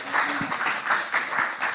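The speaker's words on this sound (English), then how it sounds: "give a huge round of applause to James" Audience applause after a conference talk on software testing: steady clapping from a room of people, with swells and faint voices underneath.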